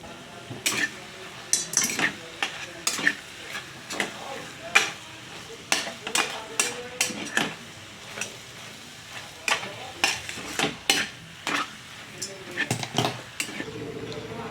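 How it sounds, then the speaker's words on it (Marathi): A spoon or spatula scrapes and knocks repeatedly against a metal wok while roasting a sweet corn mixture, an irregular clatter of stirring with a faint sizzle underneath. "इथं आपल्याला याला भाजत राहायचं आहे। आता मी याला एकसारखं शेकून घेते"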